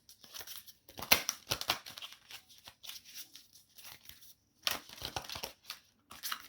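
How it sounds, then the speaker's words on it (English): Tarot and oracle cards being broken in, shuffled by hand in a steady series of crisp riffling and slapping bursts with brief pauses, close up and fairly quiet. "they're getting easier to shuffle"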